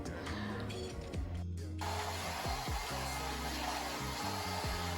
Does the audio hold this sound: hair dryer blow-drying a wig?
yes